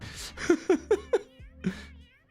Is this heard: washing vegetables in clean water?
no